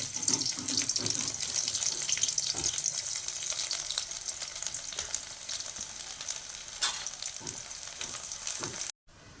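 Chopped onion sizzles in mustard oil in a wok with dried red chillies, a loud continuous hiss and crackle with occasional stirring scrapes, fading slightly before cutting off abruptly near the end.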